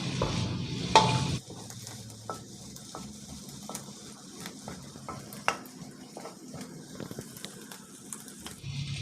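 Slices of Chinese sausage sizzle in a pan as a utensil scrapes and taps against the metal in a steady, irregular rhythm, close and moderately loud with no talking.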